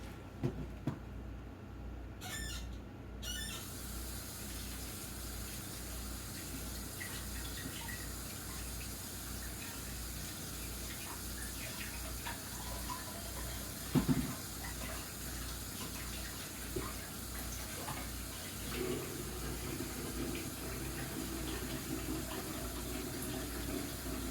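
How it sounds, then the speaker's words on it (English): Water runs steadily from a kitchen tap as a hand is rinsed beneath it, a continuous moderate splashing gush with a brief louder spatter partway through and no talking. "I'm going to rinse my hand."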